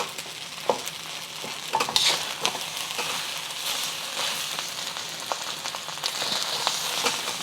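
Shrimp and egg fried rice sizzles in a hot pan with chili oil while a utensil scrapes, stirs and chops through the egg, giving a steady hiss broken by irregular taps and scrapes.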